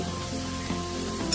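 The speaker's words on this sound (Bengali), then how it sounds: "পেঁয়াজটা ভাজা ভাজা হয়ে গেছে," Onions frying in hot oil for a Bengali fish curry make a steady, moderate sizzle with a soft crackling texture, continuous and unaccompanied by voices.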